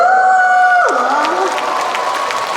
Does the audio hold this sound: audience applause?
yes